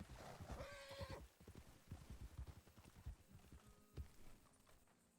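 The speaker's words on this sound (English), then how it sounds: "Why did my horse have to run right on top of the fucking dead body?" A horse in the Red Dead Redemption 2 game whinnies loudly at the start, then its hooves clip-clop in a quick running rhythm, close and steady, with thuds continuing to the end.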